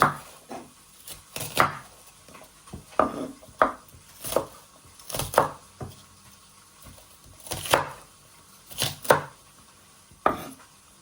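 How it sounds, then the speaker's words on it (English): A knife chops food on a wooden board during jambalaya sausage pie prep, sounding as about a dozen crisp, close, unevenly spaced chops with short pauses and faint kitchen clatter between them. "Turn it around and just chop it."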